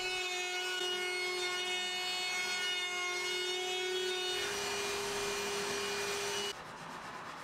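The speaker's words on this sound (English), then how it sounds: "I decided to route a round over just to ease over all of the sharp edges" A router rounding over wood edges gives a steady high-pitched whine with a strong tonal hum, shifting to a rougher cutting texture midway, then cutting off near the end.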